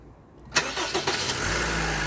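A Honda Civic engine cranks and catches after a quiet moment, with a sharp starter burst and a few stutters settling into a steady, even idle, recorded up close after tensioner and idler bearing work.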